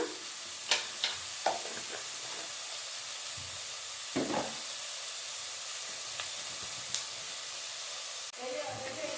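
Masala for mutton head curry fries in a pan with a quiet, steady sizzling hiss, broken by occasional scrapes and taps of stirring and a brief muffled voice near the end.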